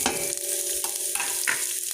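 Garlic and onion sautéing in a pan for chicken curry, a close sizzle with a few scraping stirs of a utensil, brief and without talk.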